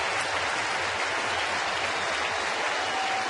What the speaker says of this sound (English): this crowd in Cincinnati will stand and cheer the 22-year-old Californian